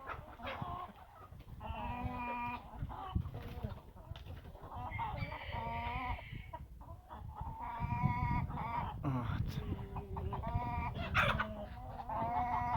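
Roosters, including bantams, scuffling and squabbling in a winter farmyard, with repeated harsh clucks, squawks and partial crows overlapping at close range; someone speaks briefly.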